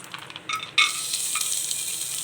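About twenty cashews fry in two tablespoons of ghee, giving a close, steady sizzle that flares up suddenly, with a few soft stirring scrapes mixed in.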